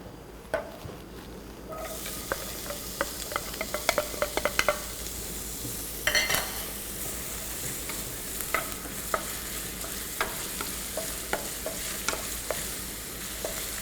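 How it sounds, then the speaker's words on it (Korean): Onions stir-fry in a pan for paella with a continuous close sizzle of hot oil, punctuated by repeated scraping taps of a utensil stirring against the pan, and no talking. "양파부터 먼저 볶아주도록 하겠습니다"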